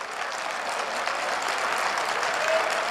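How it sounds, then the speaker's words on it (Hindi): A crowd claps steadily through a political speech, the applause a thick, even roar of many hands that carries on without a break and lifts slightly near the end. "ये ताली बजा के रखिए"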